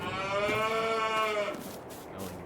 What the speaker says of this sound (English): we'll just check on the cows and the rest of